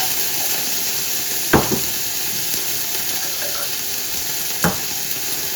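Ginger and garlic paste sizzling in a hot pan for pav bhaji, a steady close frying hiss with two brief stirring scrapes, no voices.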